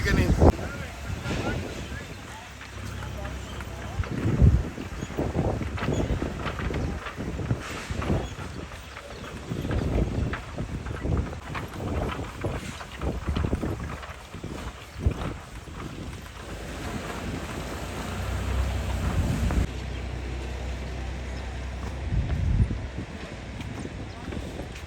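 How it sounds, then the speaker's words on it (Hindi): Strong wind buffets the microphone on a suspension bridge over a lake in the Changa Manga forest, a steady roaring rumble with gusts over the whole stretch and voices faintly mixed in. "हवा बहुत तेज़ है"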